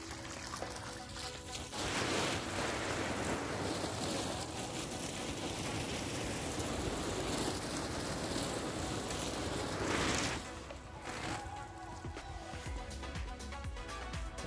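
Water sprays steadily from a garden hose irrigating chili pepper plants under plastic mulch in a farm plot, a loud continuous hiss that fills most of the clip before easing off near the end.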